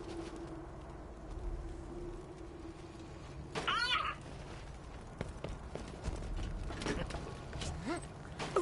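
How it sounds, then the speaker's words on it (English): An indoor house cat, watching a bird outside, gives a short, quick chirping trill midway, fairly faint, over low background sounds and clatter. "That's my cat Chloe seeing a bird outside and chirping."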